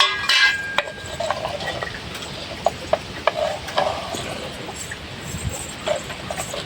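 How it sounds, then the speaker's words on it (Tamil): Spoon scraping and clinking in a pan as chili powder is stirred into homemade pickle, a series of sharp metallic taps and scrapes over a soft, steady background hiss. "இப்போ நம்ம இந்த மிளகாத்தூளையும் உள்ளே போட்டு கிளறி வச்சுக்கிடுவோம்"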